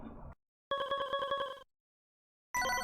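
Konami code confirmation chime from Castlevania: Bloodlines, a short bright ringing electronic jingle of rapid repeated tones, loud and clear, standing alone between quieter game audio.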